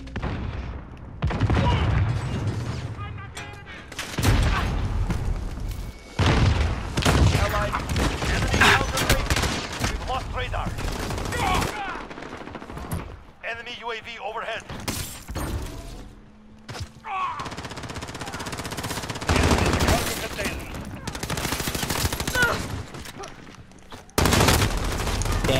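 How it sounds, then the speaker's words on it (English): Bursts of automatic gunfire and single shots in Call of Duty Modern Warfare, loud and close, rattling in long sustained volleys with brief pauses and a few heavy thuds, while a player talks over parts of it. "Friendly, stop shooting!"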